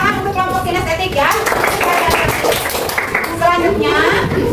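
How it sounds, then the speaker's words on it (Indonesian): Children in a classroom clap for a student group, a burst of brisk, dense hand clapping mixed with children's voices and a teacher's speech throughout. "Tepuk tangan untuk kelompok kinestetik ya."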